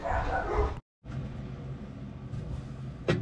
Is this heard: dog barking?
yes